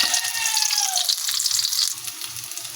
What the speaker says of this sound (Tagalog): Lagay na po natin itong sibuyas. Lutuin lang po natin ito sibuyas.